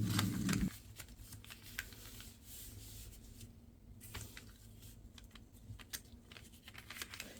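Origami paper being folded into a square base for a crane: soft crinkles and light taps, then scattered quiet rustles and presses as the sheet is flattened down, close and faint.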